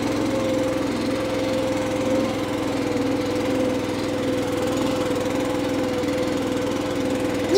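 Vehicle engine running steadily while driving with only front-wheel drive engaged and the rear axle disconnected, a constant droning hum with a fixed tone and no talking.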